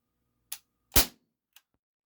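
A single sharp crack from an Umarex XCP CO2 air pistol firing a 4.5mm pellet, close and loud, framed by a couple of smaller clicks before and after.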